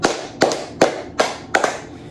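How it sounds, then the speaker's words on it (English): Five sharp hand claps in a steady rhythm, close and fairly loud, each a crisp snap with a short decay, made as part of a magic water trick. "that's whenever you gotta clap your hands five times"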